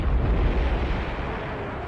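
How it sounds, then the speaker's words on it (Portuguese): A Panzerfaust anti-tank round strikes a tank and explodes, a loud, close blast that rolls into a thick low rumble and slowly fades over about two seconds. "um Panzerfaust bem direcionado e disparado do ângulo certo podia incendiar o combustível ou a munição de um tanque aliado"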